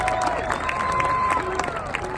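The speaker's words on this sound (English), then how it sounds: "Another round of applause for Sierra Vista." A large crowd claps and cheers steadily throughout, with scattered whoops and shouts rising over the continuous applause.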